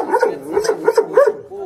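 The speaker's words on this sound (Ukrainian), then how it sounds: "Це та ж німецька овчарка" A German shepherd dog barks and yelps in a quick run of about six loud, close barks, tapering off into a softer whine at the end.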